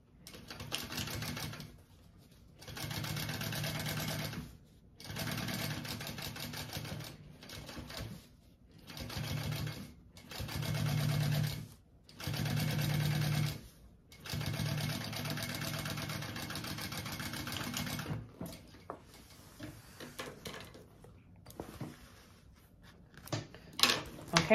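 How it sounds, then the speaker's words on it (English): A sewing machine top-stitches along a bag panel in several steady bursts of a few seconds each, separated by short pauses, ending in a ragged, quieter stretch with small clicks. "and I'm going to top stitch along this."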